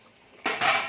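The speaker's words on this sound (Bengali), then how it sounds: "আমি এর মধ্যে ঢাকা দিয়ে দিচ্ছি একটু" A lid clatters down onto a cooking pot of okra and potatoes as two quick, close metallic clanks in a row, with no voices.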